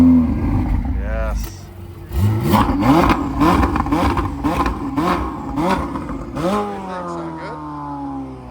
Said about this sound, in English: Ferrari cold start.